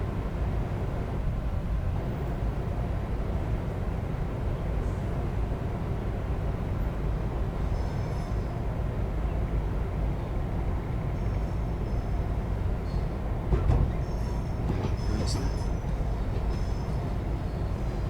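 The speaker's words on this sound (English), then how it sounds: "I do like the sound of the train squealing and going over the ports." A Class 380 electric train rolls through a Train Sim World 4 simulation with a continuous broadband rumble, faint high wheel squeal coming and going, and a brief louder clunk partway through.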